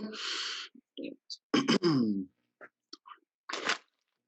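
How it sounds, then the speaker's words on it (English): Crunchy food being chewed close by, in several short bursts of crisp crunching separated by pauses, with a brief voiced sound in the middle. "whatever you chewing on looks good"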